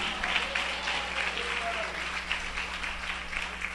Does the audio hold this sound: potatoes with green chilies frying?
no